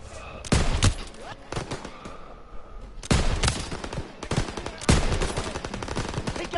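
Bursts of machine gun fire from a World War II battle in Call of Duty WW2, loud rapid volleys in several clusters with brief lulls between them, close and dense.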